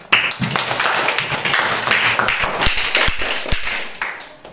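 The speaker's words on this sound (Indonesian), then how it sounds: "Tepuk tangan semuanya." An audience at a teachers' presentation claps together after it ends, a dense flurry of hand claps with a few sharper close slaps, steady for several seconds before thinning out.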